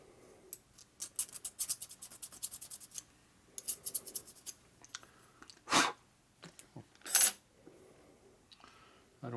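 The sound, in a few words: filing with a fingernail file used as ring file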